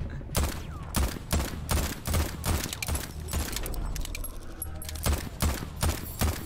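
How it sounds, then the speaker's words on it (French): Rapid bursts of gunfire from a recoiling weapon in a space-station shooter game, sharp repeated shots in clusters with a short lull midway, loud and close, with no talk over them. "Mais arrête de tirer partout."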